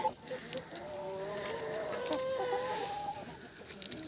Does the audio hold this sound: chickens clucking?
yes